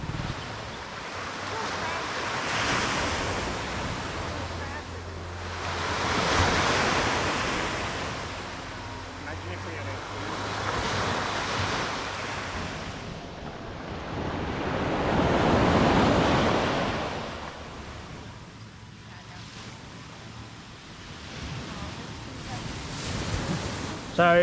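Ocean waves surge and wash ashore at Long Sand Beach, also called Pasir Panjang Beach, on the southwestern corner of Penang Island, Malaysia, in slow repeating swells about every ten seconds, with wind buffeting the microphone.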